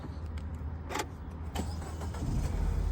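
A Peugeot 508 car's engine starts up: a short cranking burst, then a steady low idle rumble that builds slightly, heard from inside the cabin with small clicks and no talking.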